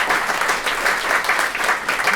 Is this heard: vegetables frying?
no